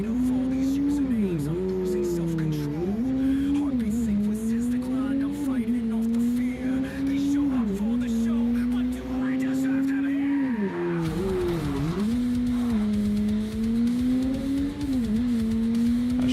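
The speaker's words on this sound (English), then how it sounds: "Sure how I feel about the sound this car makes." Steady car engine drone from the video game MindsEye, its pitch rising and dipping with throttle shifts, loud and continuous under someone talking throughout.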